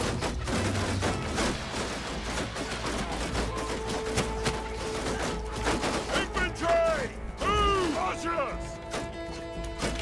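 Massed musket or crossbow volleys from troops in Mount & Blade 2 with a Game of Thrones mod, a steady battlefield clatter of shots and impacts under loud shouted commands and battle noise.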